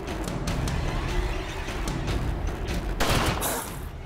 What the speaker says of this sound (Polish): MC Polak razi dwójkę przeciwników strzałem rozpryskowym